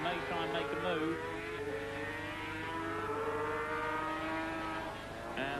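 Several 1984 Dutch TT Assen 500cc Grand Prix motorcycles accelerating out of a corner, high-pitched engines rising together in layered, rasping tones, loud and continuous over crowd ambience.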